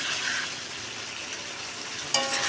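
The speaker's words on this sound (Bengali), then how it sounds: "এটা কিন্তু কষানো হচ্ছে না, এটা মশলা দিয়ে কেবল ভাজা চলছে আমাদের তরকারিটা।" Potatoes, pointed gourd and onion frying with salt, turmeric and chili in a pan, a soft, low sizzle running steadily, with a sharp clink near the end.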